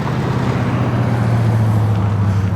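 A Volkswagen car arriving at a cars and coffee meet, a steady low engine rumble close by with constant road noise, holding level throughout.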